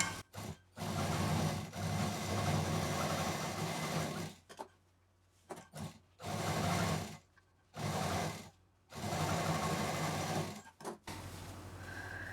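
Sewing machine stitching a handmade duffel bag, running in several bursts of steady whirring stitching separated by brief pauses, close and clear with no talk.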